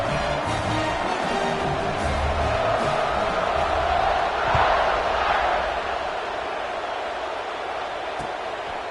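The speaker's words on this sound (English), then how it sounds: "You think this crowd's going to get loud when their defense comes on the field?" A football stadium crowd at a Notre Dame game sends up a steady, distant roar that rises briefly mid-way and then settles into a constant wash of noise, with faint voices mixed in.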